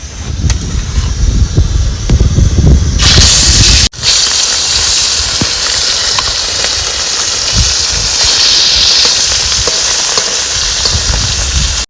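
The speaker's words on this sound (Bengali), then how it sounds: "এবার ভাজবো তো কড়াই গরম হয়ে গেছে" Small bhola fish rubbed with salt and turmeric sizzle in a hot wok, a loud, steady hiss filling the clip after a short louder burst of cooking noise at the start.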